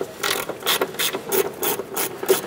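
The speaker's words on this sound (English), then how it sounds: "We're going to loosen and remove our two upper control arm bolts here." A ratchet with a 14 mm socket works the upper control arm bolts on a 2008–2012 Honda Accord, five quick, even bursts of close, crisp clicking with short pauses between, and no talk.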